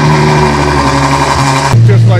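A 2019 Ferrari 812 Superfast idles close by with a steady, deep, even engine hum that shifts pitch slightly near the end, while someone talks over it.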